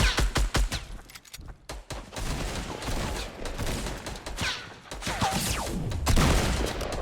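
Fortnite gunfire crackles through a fight in a video game, with rapid bursts of shots and sharp cracks spread across the moment at varying loudness.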